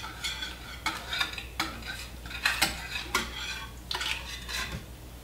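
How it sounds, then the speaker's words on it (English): A spoon clinks against a baking pan while soup mixture is spread into its bottom, a series of sharp metallic scrapes and taps spaced roughly half a second apart, close and fairly quiet. "put a little bit of that soup that we've mixed in the bottom of your pan"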